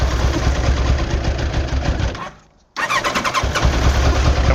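A 1989 Kawasaki ZX-10 motorcycle with a choke that won't pull out fully cranks loudly, a fast rhythmic churn that cuts out briefly and then resumes, close and without talk.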